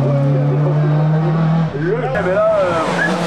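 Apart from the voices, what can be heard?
Peugeot 208 VTI race car driving in hill climb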